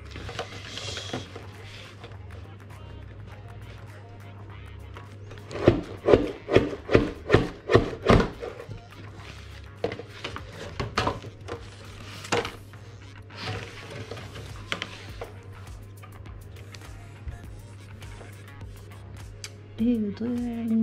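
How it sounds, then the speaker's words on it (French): A paper guillotine trims the edges of a cardboard box for a handmade Harry Potter-style spellbook, giving a quick run of sharp chopping cuts in the middle while a person talks throughout. "Alors, on coupe les bords de la boîte."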